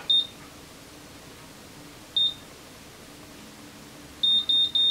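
High-pitched electronic beeps from a Babyliss Curl Secret automatic hair curler: one short beep, another after a pause, then three quick beeps in a row, over faint room noise.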